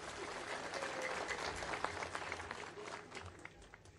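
An audience at a Bolivian event handing out Quipus computers in Chuquisaca applauds, a quiet, steady wash of clapping heard from a distance.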